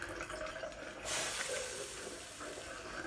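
Water thrown into a hot oven makes a sudden loud hiss about a second in, a steady sizzle and steam rush that carries on and slowly eases, with no talking.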